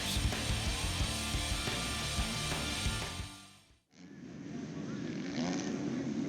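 ATV motocross race engines at the ATVMX Nationals, a loud dense roar of several quads revving at once that cuts out abruptly, then resumes as a more distant, thinner drone.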